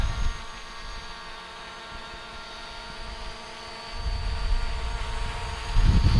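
An MJX drone hovers over a beach, its rotors giving a steady high-pitched buzzing whine with a rumble of wind or surf rising and falling beneath.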